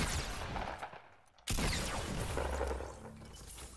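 Fortnite gunfire, a dense burst of rapid shots and crackling impacts that thins out, stops sharply for a split second, then resumes loud and continuous before easing off, with no speech over it.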